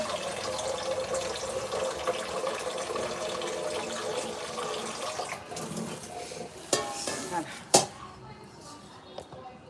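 Running water splashes into a vessel while chicken is being cleaned, then a few sharp clinks and knocks of metal pots near the end; no speech.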